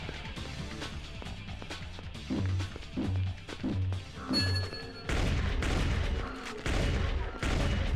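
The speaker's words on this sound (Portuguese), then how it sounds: "tá fuzilando ele aqui" Gunfire rings out in the PS2 game Blade II, set in the city sewers, with loud bursts of shots and impacts over game music and effects, intensifying into dense continuous firing in the second half.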